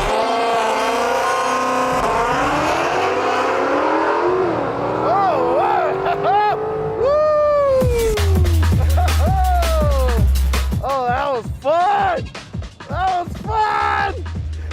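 A custom Ford Mustang, running without nitrous, accelerates hard down a quarter-mile drag strip, its loud engine climbing through repeated rising revs and gear changes, with a voice speaking over it in places.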